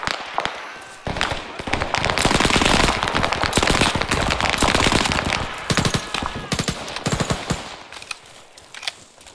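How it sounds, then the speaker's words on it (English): Rapid video game gunfire rattles almost continuously for several seconds, dense loud volleys of shots that thin into scattered bursts toward the end, with a voice talking faintly beneath. "Shots left side."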